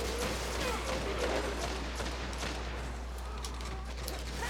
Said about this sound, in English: Oh, they're all shooting me.